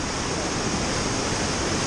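The Kali Ganga river rushes fast in the Himalayan mountains near a border bridge to Nepal, a loud, dense, continuous roar of water with no break.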